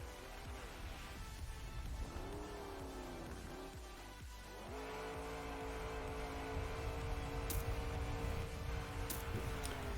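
The desert car engine in Trackmania drives with a whining tone that rises and drops through gear changes, settling into a higher sustained drone with faint clicks overhead.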